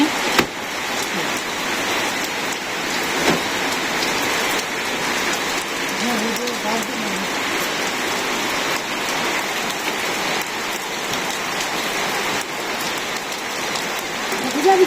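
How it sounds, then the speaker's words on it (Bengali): Steady rain pours for two hours over a small village during the rice harvest, a dense continuous hiss of drops drumming on surfaces, close and even, with no voices. "দুই ঘন্টা ধরে বৃষ্টি হইতেছে"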